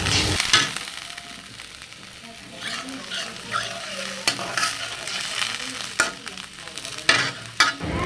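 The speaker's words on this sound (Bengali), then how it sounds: "পেঁয়াজ আর মরিচ একটু ভাজা ভাজা হয়ে গেলে আমি এর মধ্যে সামান্য পরিমাণে পানি দিয়ে দিব।" Onions and green chillies fry in a pan under a continuous close sizzle, broken by intermittent scraping stir strokes and sharper knocks of the spatula.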